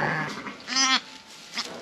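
A lamb gives a single short, wavering bleat close by during lambing season, with faint rustling around it.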